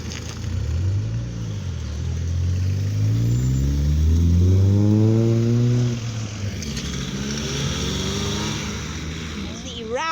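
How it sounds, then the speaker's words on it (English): A Mark 1 Mazda MX-5 and a Volkswagen Corrado 16 valve pull away from a classic car meet at a country inn. Their engines rev and rise in pitch as the cars move off nearby, over continuous crowd chatter and outdoor noise. "The Mark 1 MX-5 leaving with the Corrado 16 valve."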